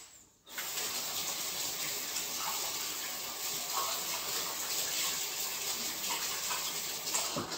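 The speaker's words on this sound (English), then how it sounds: "I think I will wash my hands" Tap water runs steadily for handwashing, starting abruptly and then pouring in an unbroken, close, moderately loud stream with small splashes, no voices.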